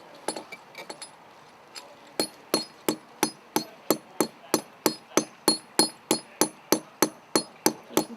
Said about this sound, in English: we're putting bolts into the wall which we're going to abseil off